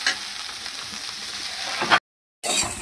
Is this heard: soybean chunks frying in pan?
yes